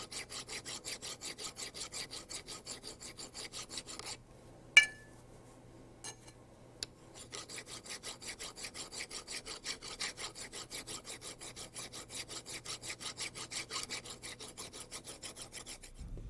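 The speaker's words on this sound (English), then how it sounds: "file the upper bearing housing where it contacts the airframe" A hand file rasps across the upper bearing housing of a Rotorway helicopter where it meets the airframe: steady, even back-and-forth strokes, close and fairly quiet, pausing briefly midway around a couple of light metallic clinks before resuming.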